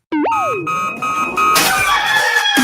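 A rooster crowing sound effect rings out loud and close, a single rising-and-falling crow followed by a brief burst of clucking and noisy layered effects, with no one talking over it.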